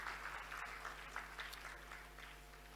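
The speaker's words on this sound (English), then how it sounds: "please, can we applaud" Sustained audience applause fills a conference hall during a welcome address and keynote session at a women directors' biennial conference, a steady dense clapping that stays fairly even and moderately loud throughout.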